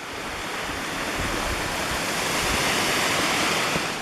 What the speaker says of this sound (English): Well, I've reached the area of this waterfall up here.